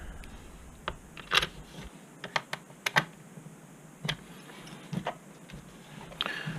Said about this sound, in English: We'll get our 4 screws back in.